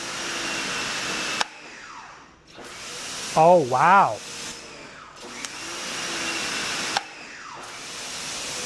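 An AVA Go pressure washer with a universal motor runs steadily from about 25 feet away, a loud broadband whine broken by brief pauses, while a short exclamation and whistling-like tones cut in midway.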